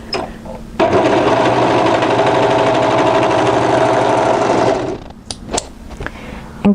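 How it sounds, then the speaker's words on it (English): An overlocker stitches the short end of a knit neckband folded right sides together, its fast even whirr starting abruptly and running steadily for about four seconds before stopping, followed by faint handling clicks. "and overlock the short end"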